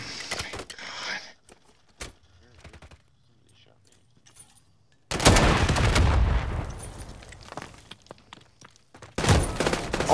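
Video-game gunfire in Modern Warfare 3 rattles in loud automatic bursts and single shots, two dense volleys separated by quieter stretches, with a player's voice talking over parts of it.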